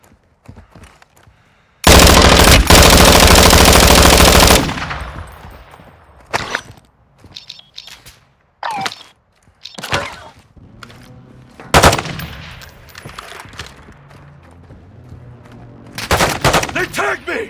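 Warzone 2 video game gunfire: a loud, sustained automatic burst of roughly three seconds, then scattered single shots and short bursts with echoing tails, alongside other game noises.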